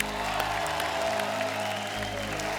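Studio audience applause at a Hindi comedy talk show, a dense sustained wash of clapping from a large crowd, steady and loud throughout.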